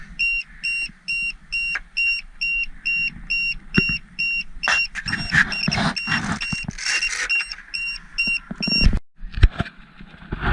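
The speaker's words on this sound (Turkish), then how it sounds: "Pil seviyesi belli bir değerin altına indiği zaman bu şekilde uyarı verecek" An RC boat's remote controller sounds its low-battery warning with a rapid, steady series of high, clear beeps repeating throughout, while nearby handling noises and rustling rise and fall underneath.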